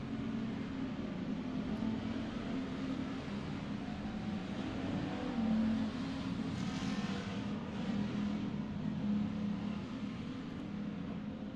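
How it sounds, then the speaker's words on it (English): Stock cars race at Merced Speedway, a continuous distant engine drone with faint passing swells, rather quiet and steady throughout. "up front, they're having a classic stock car race"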